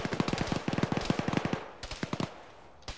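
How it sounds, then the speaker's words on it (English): Enemy machine gun in Arma 3 fires rapid, evenly spaced bursts near a factory, several quick strings of sharp shots, with a few scattered later rounds and a final lone report, moderately distant and fairly faint. "Enemy machine gun at the north east edge of the factory suppressing Alpha 1 heavily."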